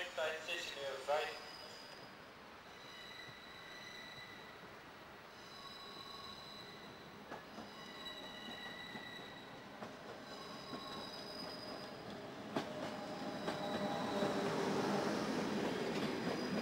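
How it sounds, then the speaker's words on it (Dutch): An Intercity Plus train pulls into the platform at Dordrecht station, with steady rumbling wheels and sustained high metallic squeals as it slows, while voices are faintly audible in the background. "De Intercity Plus trein in de richting Rotterdam"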